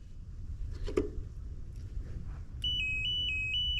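A Genie Z60/34 articulated boom lift sounds its tilt alarm, a steady electronic beep pulsing in a regular on-off rhythm that starts partway through after some quiet clatter and mechanical noise.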